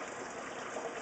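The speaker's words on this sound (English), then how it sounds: "The water goes in. That's the settlement tank." Water gushing steadily into a settlement tank in a patio garden fish and crawfish setup, a continuous close, even wash of flowing water with no talk.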